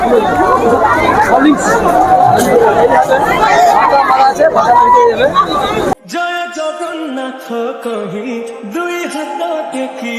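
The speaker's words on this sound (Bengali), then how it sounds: "আর ভিড় দেখতেই পাচ্ছ, প্রচুর পরিমাণে ভিড় রয়েছে।" A dense crowd at the Mahishadal Rath Yatra festival chatters loudly and close for about six seconds. Clearer music with voice then takes over.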